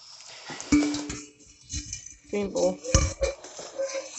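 A clean bowl is picked up and set down in a home kitchen while making bread, giving a few sharp clinks and a ringing ding, with quiet handling noises between them.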